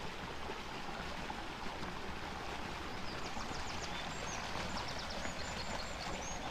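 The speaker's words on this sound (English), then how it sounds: "come to this lovely little stream, which I believe comes off South Downs, which is not too far from here, and will eventually flow out to the River Rother" A small stream on a heathland common in the South Downs flows with a constant, close rushing trickle, and faint bird calls come through in the second half.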